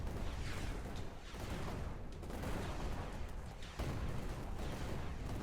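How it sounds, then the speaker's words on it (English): A town comes under artillery bombardment in the game Black Skylands, a dense, rumbling barrage of booms and gunfire rolling continuously at moderate volume, with no voices. "The town's being bombarded."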